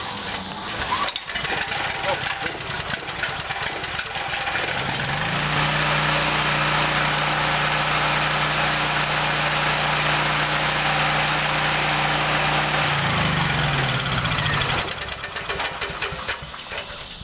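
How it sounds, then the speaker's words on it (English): A portable generator with a cold engine on a warm day, choke fully on, starts and settles into a loud, steady running drone that holds for several seconds and then drops away. A voice may be heard faintly. "But I swear this is a cold engine."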